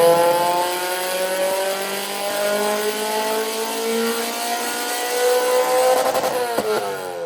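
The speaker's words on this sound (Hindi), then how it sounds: "फाइल डालने के बाद हम गाड़ी का अगला रन मारेंगे" A tuned car on a dyno after a new engine file is loaded revs hard in one long sustained pull, the engine tone climbing steadily in pitch, loud and close, ending with a brief rattle as it lets off.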